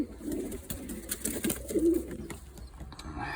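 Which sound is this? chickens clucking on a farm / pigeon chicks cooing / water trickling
pigeon chicks cooing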